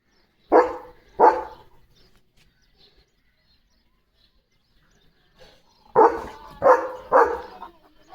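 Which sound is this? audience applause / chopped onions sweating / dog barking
dog barking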